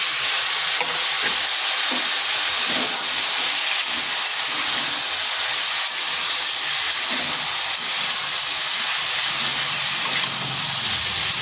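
Lightly fried potatoes and freshly added drumstick pieces sizzle in a pan over slow-to-medium heat, a loud, steady hiss with soft stirring scrapes throughout and no talking.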